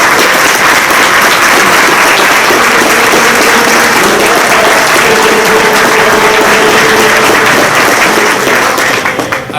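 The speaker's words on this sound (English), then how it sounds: "please join me in a round of applause and recognize our Senior Administrative Assistant, Mrs. Jennifer Wilson" Sustained applause from an audience at an ROTC awards evening honoring a senior administrative assistant, dense steady clapping throughout that tapers slightly at the very end.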